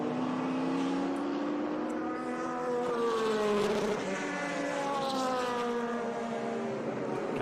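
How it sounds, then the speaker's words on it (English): A thundering V8 Corvette DP race car passes at a track, its engine note rising and then falling in pitch as it sweeps by, loud and steady from start to finish. "that thundering V8, that Corvette, that DP Corvette coming by us"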